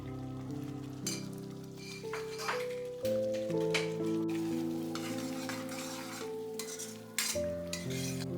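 Butter chicken gravy sizzling in a pan while being stirred, a steady close frying hiss with repeated scraping and clinks of a spoon against the metal, and no talking.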